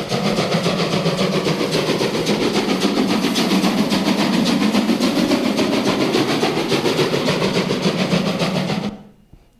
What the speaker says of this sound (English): Let's hear this train first.